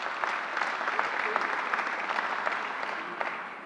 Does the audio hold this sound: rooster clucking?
no